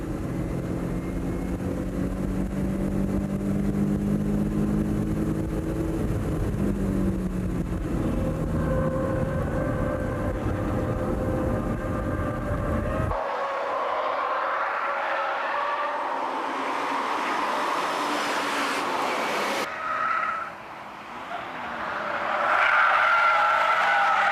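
A Toyota Supra and a Nissan 300ZX race car battle on a track, with loud harmonic engine drone shifting pitch through gear changes, then a sudden cut to a thinner, distant engine sound with brief tire squeal.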